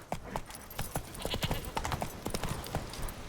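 Hoofbeats of Roach, a horse in The Witcher 3, galloping in a quick uneven clip-clop rhythm of many close, sharp strikes, with faint game sounds underneath.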